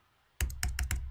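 Computer keyboard keys tapped as video-editing shortcuts: four quick, crisp clicks in a short irregular burst after a near-silent start, close and clear with no talking.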